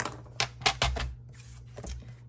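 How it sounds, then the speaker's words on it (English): A paper trimmer cuts down a photograph, giving a few sharp clicks and scraping slides in quick succession, close and fairly quiet. "Okay, we need to trim this photograph down."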